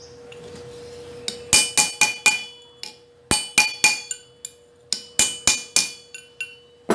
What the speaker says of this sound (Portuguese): você só pega o martelo, aí você acerta as pontas